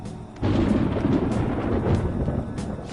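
Thunder before rain in Persona 5 Royal, a deep rolling rumble that swells in suddenly and sustains loudly for a few seconds with no talk over it.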